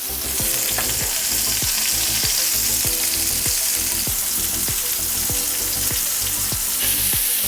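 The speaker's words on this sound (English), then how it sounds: "we're cooking them in a frying pan" Burger patties seasoned with paprika sizzle in a frying pan, giving a steady close hiss broken by regular soft knocks and scrapes, as if pressed with a spatula.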